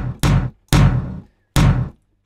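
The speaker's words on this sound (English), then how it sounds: "so it sounds like a one-shot tom sample" Three deep, punchy drum hits with short decays, spaced unevenly and played alone, like a single tom struck repeatedly.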